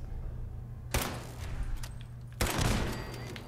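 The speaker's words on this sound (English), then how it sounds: "Something's shooting at me." Bursts of gunfire aimed at the player in the Fallout 4 video game, two sharp volleys about a second and a half apart, loud and close over a steady low game hum.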